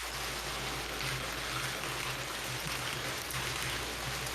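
Heavy rain pours outside a window and is picked up by a home microphone, giving a steady, dense hiss of rainfall that stays constant and loud throughout with no pauses.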